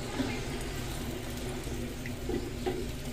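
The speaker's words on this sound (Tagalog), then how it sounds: "lalagyan na natin ng tubig ito para lumambot" Water poured steadily into a cooking pot of chicken afritada, a continuous close splashing rush with faint bubbling accents, no talking.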